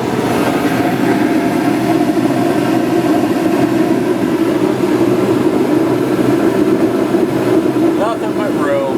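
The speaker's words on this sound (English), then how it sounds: "Pardon the noisy furnace." A noisy home furnace roars in a garage workshop, a loud, steady low rumble with a continuous hum that holds for the whole stretch, with brief faint squeaks near the end.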